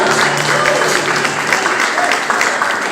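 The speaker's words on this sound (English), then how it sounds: "applause for the next councilman for District 4, Dwaine Caraway." An audience claps steadily at a campaign announcement for a District 4 city council race, a loud, sustained, close wash of applause with faint crowd noise and no pause.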